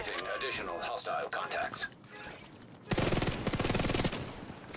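Automatic gunfire in the shooter The Division 2, with loud rapid bursts of rattling shots following a stretch of voices talking over quieter combat.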